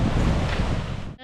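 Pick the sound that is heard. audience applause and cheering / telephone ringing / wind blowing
wind blowing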